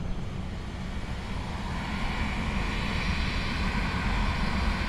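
FSLabs A321 airliner taxiing in a flight simulator game, a steady broadband jet engine roar that swells slightly, continuous and fairly loud, with no talk over it.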